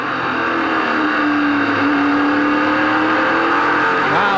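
Race car engine at sustained high throttle on a flat oval track during a 250-lap stock car race, a loud steady roar with a rising and falling pitch as the car passes close by.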